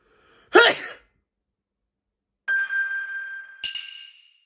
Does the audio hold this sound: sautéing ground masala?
no